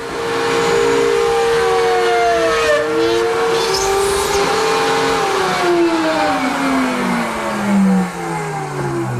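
A router fitted with a beading bit cuts old pine stock held against the table by a featherboard, giving a steady, loud high whine with shifting pitch as the wood feeds through.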